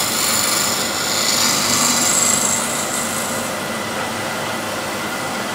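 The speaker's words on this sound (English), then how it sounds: "this is shear scraper" A shear scraper cuts a wooden bowl spinning on a lathe, giving a continuous, even whirring hiss with a brief brighter edge early on before it settles.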